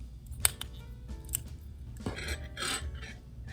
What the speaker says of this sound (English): I'm going to cut off my yarn